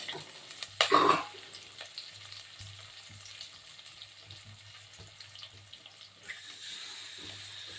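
Dried red chilies, chana dal, onion and coconut fry in a pan with a steady, soft sizzle; a louder burst comes early as ingredients go in, then the sound settles with light stirring.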